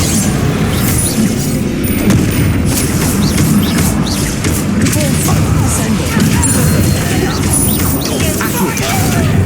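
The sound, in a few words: Confringo and Bombarda spell explosions in Hogwarts Legacy video game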